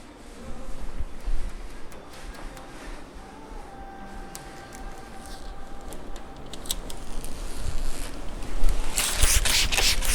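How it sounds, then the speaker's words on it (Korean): Backing paper being peeled off window tint film on a Mercedes G63 AMG G-Wagen, a continuous crackly scraping rasp with small ticks that grows louder and harsher toward the end. "이면지를 벗기겠습니다"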